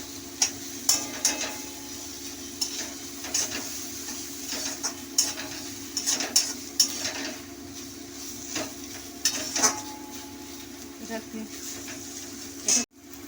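Fish roe sautéing in a pan gives a faint, steady sizzle with intermittent scraping and tapping of a spatula against the pan, no talking.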